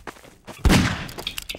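A single gunshot fired in the sandbox game Garry's Mod, a loud booming thump partway through with a decaying tail, set among soft game noises and scattered clicks.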